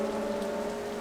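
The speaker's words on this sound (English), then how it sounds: "So we're going to turn on some rain" Steady rain in the racing game TOCA Touring Car Championship at Brands Hatch, a constant hiss of rainfall layered over droning car engine tones, with no talk.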